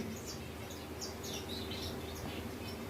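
Finches chirp with small, high chirps scattered through an aviary run, faint and somewhat distant over a steady background hiss.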